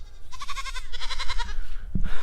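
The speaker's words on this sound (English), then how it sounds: "The most dramatic animals you could possibly have is a goat." A goat on a farm bleats loudly and close by in two wavering, drawn-out cries one after another, followed by a short thump.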